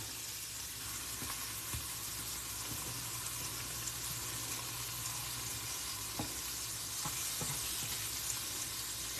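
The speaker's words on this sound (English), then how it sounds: "all you do is you cook your pickles for a couple of minutes on each side" Pickles frying in a pan on a home stove: steady, loud, close sizzling and crackling with small pops throughout, no voices.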